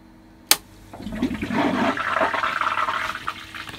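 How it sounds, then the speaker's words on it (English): A pump switches on with a sharp click, then water rushes and gurgles steadily through a Twinchilla Mk3 dual coil immersion chiller with whirlpool arm, loud and close throughout. "And now we switch our pump on."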